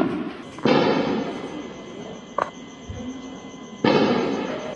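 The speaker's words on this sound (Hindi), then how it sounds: "बड़े धमाके हो रहे हैं भाई, बहुत धमाके हो रहे हैं।" Two loud booming blasts from a missile attack in India, a few seconds apart, each followed by a long rumbling decay, with a sharp thud between them.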